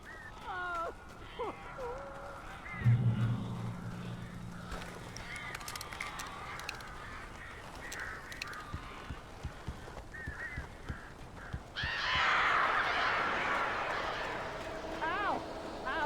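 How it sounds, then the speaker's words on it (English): Birds caw and honk repeatedly in the video game Alan Wake, scattered calls over several seconds mixed with game ambience, a low hum and a burst of rushing noise near the end, with people talking over it. "These birds are weird."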